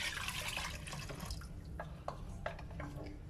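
Milk pours from a 1 liter Tetra Pak carton for a fettuccine Alfredo sauce, a continuous liquid gush that tapers into a few scattered drips and splashes.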